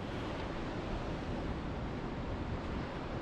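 Choppy ocean surf on the Oregon coast near Sunset Bay and Cape Arago, a steady broadband wash of waves with light wind, continuous and moderately distant with no voices.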